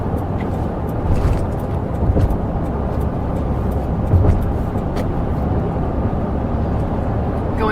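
Steady, loud tire roar and road rumble from a car on all-terrain tires cruising at about 50, continuous and unbroken, heard from inside the cabin.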